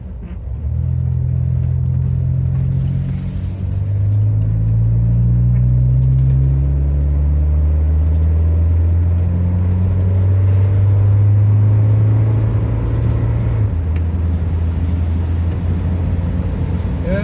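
A 1967 Humber Hawk's engine hums and drones steadily, its pitch rising and shifting as it drives downhill at speed in the rain, loud and close throughout.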